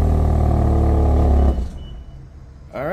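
A 2023 BMW X3 xDrive30i M Sport four-cylinder engine runs loud and close with a steady deep hum, then cuts off abruptly, leaving a quieter idle-like murmur before a brief rising whine near the end.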